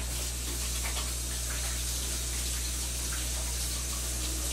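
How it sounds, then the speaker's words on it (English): Steady hiss of tap water running into a sink while hands are rinsed, a continuous close wash with a low hum beneath and no talk. "So I'm gonna quickly rinse my hands."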